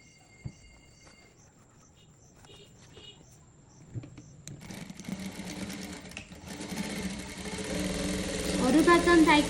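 Sewing machine stitching elastic into a half-inch fold for a gown, its steady rapid whirr building from faint, sparse taps to a loud continuous run.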